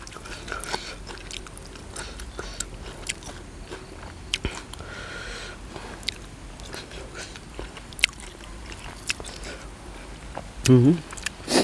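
Straw-baked chicken is eaten outdoors in a cool evening breeze, with close bites and chewing sounds scattered under soft murmuring speech, ending in a louder vocal burst.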